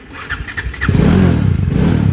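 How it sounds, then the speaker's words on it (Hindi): A motorcycle engine starting: a few faint starter clicks, then the engine catching and settling into a steady, loud, close idle putter. "पहले इनको स्टार्ट कर लेते हैं बाइक को।"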